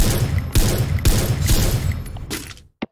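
Loud bursts of video-game gunfire crack out in a rapid fusillade, several heavy shots booming over sustained rattling, then stopping abruptly.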